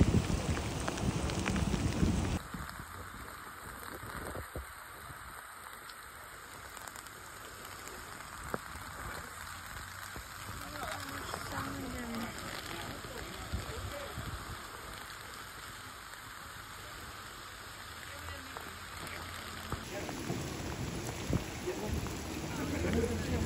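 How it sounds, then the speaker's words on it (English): Steady rain falls in the port of Ketchikan, Alaska, a soft, continuous hiss with light wind noise against the microphone, fairly quiet and lasting throughout. "they get a lot of rain"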